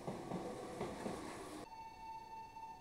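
Broadband train noise rumbles and rattles, then stops abruptly and a steady electronic chime or tone rings on alone at Jingu-mae Station on the Meitetsu line in Japan.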